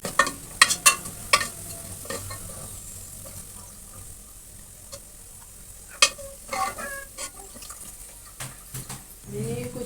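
Onions fry golden brown in a pan, giving a soft crackling sizzle with intermittent stirring clatters and scrapes throughout.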